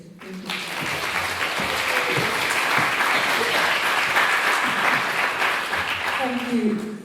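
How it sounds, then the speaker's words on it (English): After a short pause, an audience at a talk with artist Dorothy Cross and Iwona Blazwick breaks into sustained, warm clapping for the speakers. The applause holds at an even level, with faint voices underneath and a voice emerging near the end. "So please join me in a very warm round of applause for our speakers."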